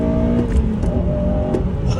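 A Honda Civic FN2 Type R engine holds high revs in VTEC, a loud, steady, close-up roar with a sustained mechanical tone and no speech over it.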